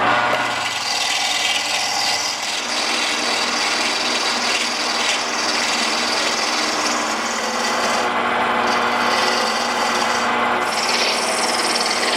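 Steady, loud abrasive rasping of sanding on wood, continuous and close, with no talking.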